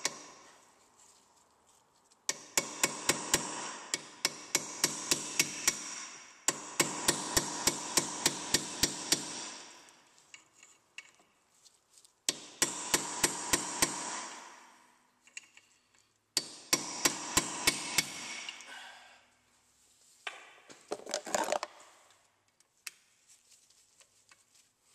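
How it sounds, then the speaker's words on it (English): Repeated sharp metallic hammer blows strike an impact screwdriver to loosen brake rotor screws, falling in quick rhythmic bursts of several hits separated by short pauses, close and loud. "And you hammer on it and it will take the screws off."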